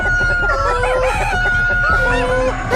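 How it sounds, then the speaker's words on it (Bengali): Farmyard chickens wake and cluck loudly, with a rooster's crow-like calls rising over a steady tonal backdrop, busy and close throughout. "কিন্তু হঠাৎ মুরগিরা জেগে ওঠে। ডাইনিকে দেখে তারা ডাকতে শুরু করে।"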